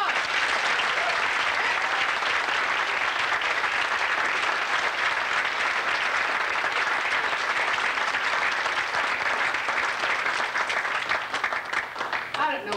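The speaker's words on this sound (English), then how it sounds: "let's give our contestants one more big round of applause." A live audience at a word contest gives the contestants a long, sustained round of applause, dense and steady throughout with a faint voice surfacing near the end.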